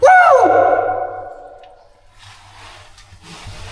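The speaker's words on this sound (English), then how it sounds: "Wow, hear that echo?" A loud whooping vocal call rings out, then echoes and decays slowly through a large cave room, followed by faint scattered noises.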